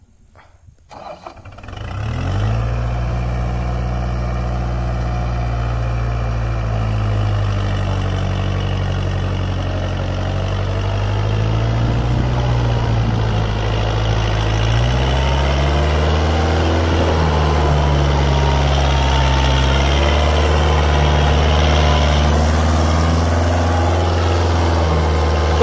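A heavy Kubota diesel tractor engine cranks and catches, then chugs steadily and loudly nearby, its pitch shifting as it revs partway through.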